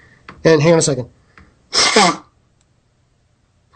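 An allergy sneeze from a radio show guest, one sharp burst after a short spoken phrase, close to the microphone in an otherwise quiet studio.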